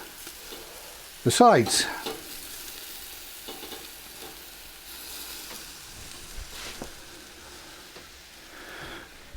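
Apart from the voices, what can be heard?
sausages sizzling as they are turned in a pan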